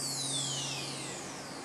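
Layered transition effects in a beat: a sweeping high whoosh gliding downward over a low sustained hum and noisy texture, brief and steady.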